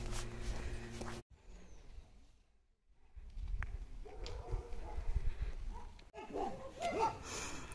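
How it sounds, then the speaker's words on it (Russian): Large dogs bark in a residential village street with tiled-roof houses in Berehove, several short barks and yips from moderate distance over footsteps and outdoor background noise. "Здесь у всех такие собаки огромные."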